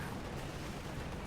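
Mortar carriage fire in the video game Company of Heroes 2 forms a dense, continuous rumble of battlefield blasts and booms, loud and steady throughout, with no clear separate shots.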